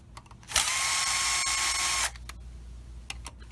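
A power drill backs screws out of the dash of a 2017–2019 Infiniti QX60. One loud, close burst of steady high whine lasts about a second and a half, then stops, leaving quiet handling noises.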